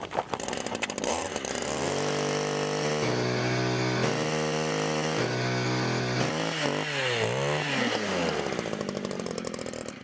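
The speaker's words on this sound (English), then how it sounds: "Within seconds of drilling through a lake ice bed of more than 15 inches" A gas-powered ice auger drills through more than 15 inches of lake ice, its engine loud and close with a steady high drone that dips and rises as the bit bites, running throughout.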